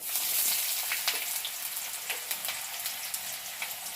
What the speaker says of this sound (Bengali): এরপর আমি ওই তেলের মধ্যে দিয়ে দেব পেঁয়াজ